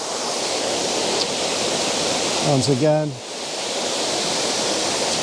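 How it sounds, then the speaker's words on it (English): Steady broadband roar of a waterfall tumbling over rocks, constant and full throughout, with someone briefly speaking over it near the middle. "focused on the waterfall itself."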